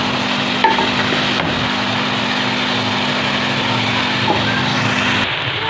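Potato kebabs half-frying in a pan over medium-low heat give a steady, even sizzle with a low hum underneath, close and continuous, with no voices.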